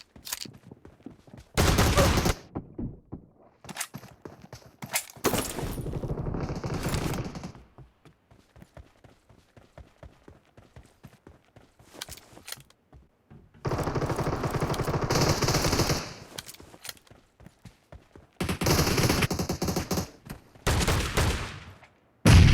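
Loud bursts of rapid automatic shotgun fire in a PUBG Mobile team deathmatch on the Livik map, several long volleys separated by short pauses, with a final shot at the very end.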